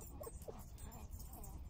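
A corgi puppy and another dog play roughly at a dog park, giving a couple of short, high whimpers and yips at close range over faint outdoor background noise.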